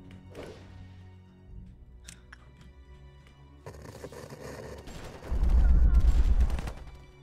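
Heavy annihilator cannon blasts boom in bursts in the video game Lobotomy Corporation, the last a long, loud rumbling barrage, after quieter clicks and thuds.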